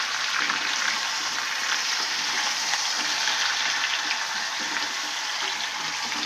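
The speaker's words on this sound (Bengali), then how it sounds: "এবার আমি গোশের যে মাখাটা ছিল মশলা দিয়ে ওটা এবার আমি ঢেলে দিব, দিয়ে এটা ভালো করে নেড়ে নিব" Marinated meat with its spice coating tipped into a pan of fried spices and stirred, giving a steady, close, unbroken sizzle with faint wet stirring, no talking.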